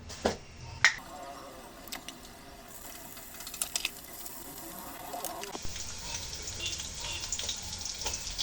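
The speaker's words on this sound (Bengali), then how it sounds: "এখন সামান্য কাঁচা জিরা ঝাল পেঁয়াজ একসঙ্গে ভেজে নেব" Cumin, green chili and onion fry in hot oil in a wok, giving a soft crackling sizzle that swells into a fuller, brighter hiss partway through, with a few sharp clicks near the start.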